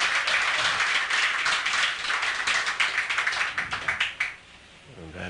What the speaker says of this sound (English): that merited not just applause, but a lot of oohs and ahs from the crowd